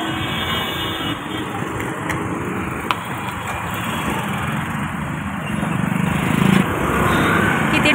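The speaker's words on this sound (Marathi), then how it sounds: "किती ट्रॅफिक आहे बघा" Evening road traffic streams past on a busy street, a continuous broad rumble of engines with occasional faint horn toots, swelling slightly louder toward the end.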